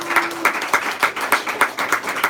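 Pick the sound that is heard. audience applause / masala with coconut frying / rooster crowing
audience applause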